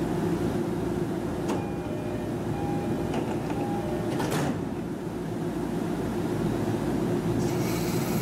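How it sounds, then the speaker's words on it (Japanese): The last train of the night departs Matsudo Station on the JR Joban Line, rumbling steadily along the rails with a low continuous roar, a few faint squeals and clanks, and a brief hiss near the end. "松戸駅最終電車発車いたします。"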